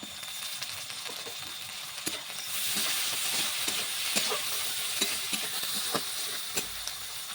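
Chopped tomatoes fry in oil in a pan, a steady hissing sizzle that swells after a couple of seconds, with repeated scraping strokes from stirring and faint pops, heard close with no talking.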